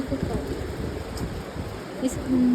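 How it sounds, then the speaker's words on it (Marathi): Steady rain hisses down outdoors, a broad washing noise with faint voices underneath. "खूप पाऊस आहे तुम्ही बघा सकाळपासून पाऊस आहे"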